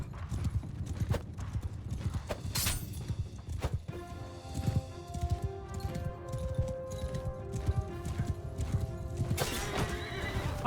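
A horse in Mount & Blade II: Bannerlord gallops with steady, close clip-clop hoofbeats throughout and gives a long, loud neigh midway and again at the end.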